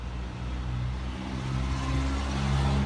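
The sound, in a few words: car passing on street in Lima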